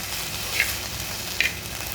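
Peanuts fry in a pan for mint chutney, giving a soft, steady sizzle with two brief brighter crackles and no talking.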